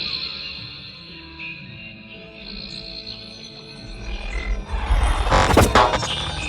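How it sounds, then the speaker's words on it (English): An electronic insect-like chirping, like a digital grasshopper or cicada, forms part of a psychedelic music track, with thin high tones at first that build into a louder, noisy burst in the second half. "Like a digital grasshopper cicada thing."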